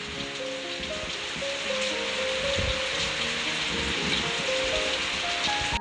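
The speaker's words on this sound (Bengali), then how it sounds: "হ্যাঁ মুসলধারে বৃষ্টি নেমেছে" Heavy rain pours steadily at night in a continuous, dense wash of drops hitting surfaces, close and unbroken with no voices.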